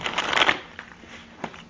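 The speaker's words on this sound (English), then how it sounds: "shuffle the cards." Tarot de la Mucha cards being shuffled by hand, a quick papery riffle up close followed by a couple of soft flicks and taps, quiet in a still room.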